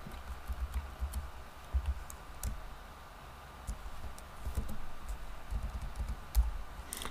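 Computer keyboard keys pressed while playing Dwarf Fortress: irregular bursts of clicking taps, close and clear, with short pauses between runs of keystrokes.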